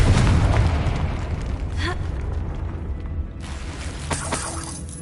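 A Confringo spell explosion in the video game Hogwarts Legacy, a loud booming blast with shattering debris that decays over several seconds, with a few sharper crackles near the end.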